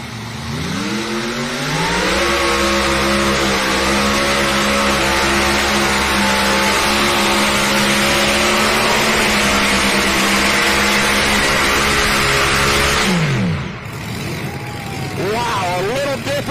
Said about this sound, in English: he hammered on the Say Goodbye tractor